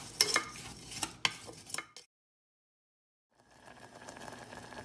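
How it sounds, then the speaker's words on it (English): A spoon stirs a mixture of sugar, lemon juice and lemon zest in a pan, scraping and clinking in short bursts, then falling silent for over a second before a faint, steady background resumes. "Give that a little stir."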